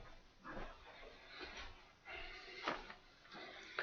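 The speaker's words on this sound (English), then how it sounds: "Dog's barking." A dog barking and yipping indoors, a few short, faint barks and whimpers spaced irregularly, quiet and somewhat distant.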